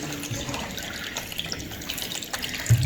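Water flows steadily through a homemade water mill model built for recycling wastewater, a soft, continuous trickle and gush at low level with no voices.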